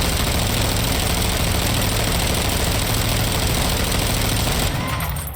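Continuous rapid light-machine-gun fire from the shooter Warzone 2.0, a dense unbroken stream of loud shots that tapers off in the final second.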